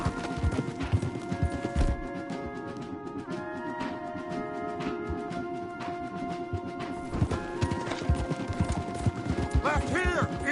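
Horses gallop hard in Red Dead Redemption 2, with rapid rhythmic hoofbeats pounding through the whole stretch under a tense orchestral score, plus occasional clanks and a brief whinny near the end.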